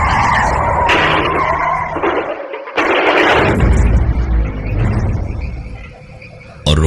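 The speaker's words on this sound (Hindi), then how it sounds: "गाड़ी सीधे सामने एक पेड़ से जा टकराई" A car crashing into a tree as a story sound effect: loud skidding and engine noise followed by a sharp crash impact and a brief silence, then rumbling debris, with no talk.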